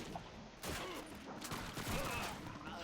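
Gunfire in Call of Duty 2, a scattered volley of shots and sharp cracks over battlefield noise, with faint voices in the background.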